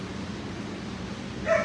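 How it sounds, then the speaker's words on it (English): A dog in a kennel gives a single short, sharp bark or yip near the end, over a low steady background hum. "You're a really handsome dog."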